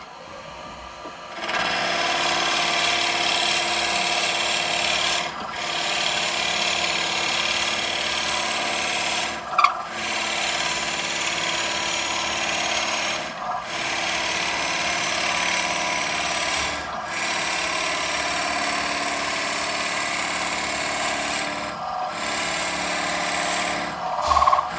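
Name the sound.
drilling into wood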